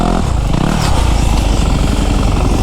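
A dirt bike engine revs loudly and close up, a continuous rough buzzing roar that holds steady for a couple of seconds with no talk over it.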